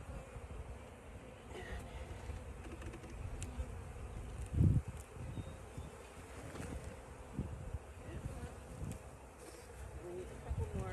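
Honey bees swarming around an open hive while it is split by the artificial swarm method, making a dense, continuous low buzz with close passes and handling noises under it.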